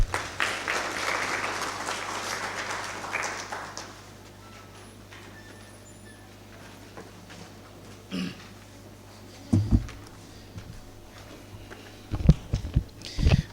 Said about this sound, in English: May we please give him a round of applause?